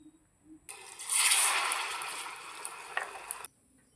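Munthiri kothu balls dipped in batter hit hot oil and fry with a sudden loud, steady sizzle lasting about three seconds, close by, then cut off sharply; no talking.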